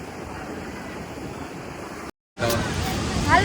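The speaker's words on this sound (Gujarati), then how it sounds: "વિશાળ દરિયો તો જો" Sea waves wash steadily along the shore at Gomti Ghat in Dwarka, a broad constant surf roar with a brief cut partway through, recorded outdoors with faint crowd murmur in the background.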